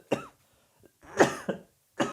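Several short, sharp coughs and throat-clearing bursts in a quiet room, spaced irregularly over about two seconds and heard close and alone.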